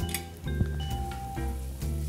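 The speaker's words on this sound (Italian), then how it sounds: "la cipolla la facciamo andare un attimino" Red onion sizzles and fries in a pan on a kitchen stove for tagliatelle with guanciale ragù, a steady close crackle broken by a few light stirring clinks, with no talking.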